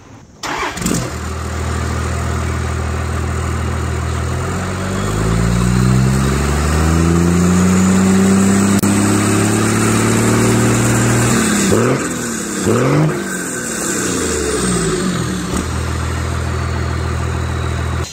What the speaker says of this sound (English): here's the 4-inch Diamond Eye exhaust on my 12-valve Cummins